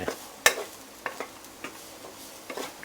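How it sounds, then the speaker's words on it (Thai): Garlic stir-fried in a pan over low heat for a shrimp dish: soft intermittent scraping strokes of a utensil with a light sizzle underneath, one sharper clack near the start, fairly quiet and without talk. "กระเทียมลงไปคั่ว ให้หอม"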